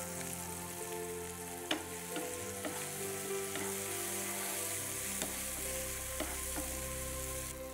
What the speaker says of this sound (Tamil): இதிலே ஒரு பச்சை மிளகாய் கீறி போட்டு அதையும் நம்ம வதக்கிக்கலாம்.